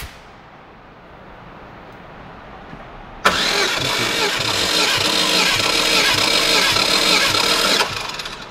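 An engine cranks over during a wet compression test, a steady loud rhythmic churning that starts abruptly after a quiet stretch and runs for several seconds before stopping.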